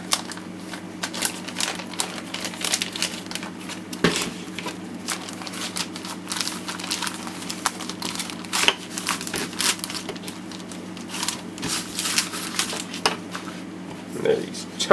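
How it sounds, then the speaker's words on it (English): A plastic bag holding Star Wars Edge of the Empire board game tokens is handled close up, giving a steady run of crinkles and small crackles over a faint background hum. "And we got something in a plastic bag, and I can tell why, because they're popping out."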